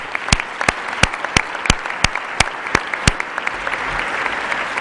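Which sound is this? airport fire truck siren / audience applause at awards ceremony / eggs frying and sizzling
audience applause at awards ceremony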